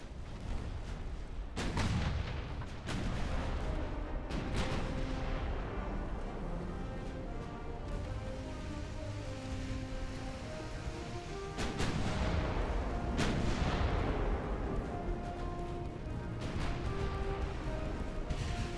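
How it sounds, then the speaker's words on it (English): Naval gunfire from battleships in the warship strategy game Ultimate Admiral: Dreadnoughts, heavy booming salvos rolling out in repeated loud bursts with long rumbling tails over a dense, continuous battle din, no voices. "You need to start firing on that battleship."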